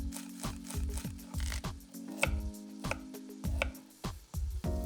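Knife rough-chopping onion on a cutting board for a rustic minestrone soup, about a dozen crisp, evenly paced thuds with faint slicing, close and clear, with a steady low hum behind.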